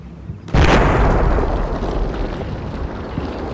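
An artillery shell impact in the Combat Mission: Shock Force war game lands as a sudden loud blast, followed by a long rumbling roar that slowly fades over several seconds.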